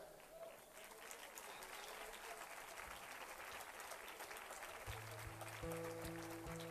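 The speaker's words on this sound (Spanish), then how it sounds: "pido un fuerte aplauso para Laura" A concert audience applauds a dancer at a theatre performance with a continuous, fairly soft patter of clapping; sustained musical tones enter underneath in the last couple of seconds.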